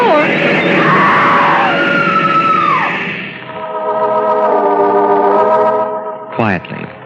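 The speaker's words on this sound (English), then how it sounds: "The woman screams." A woman's loud, distorted scream in a radio drama about a murder on a train platform, carried by heavy echo and effects for several seconds over a grinding, tonal background before a brief sharp burst near the end.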